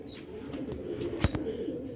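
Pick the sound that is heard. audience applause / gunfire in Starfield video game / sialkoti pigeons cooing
sialkoti pigeons cooing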